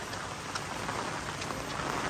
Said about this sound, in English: Oh, Diyos ko po, it's raining so much now.